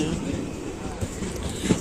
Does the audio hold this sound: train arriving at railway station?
yes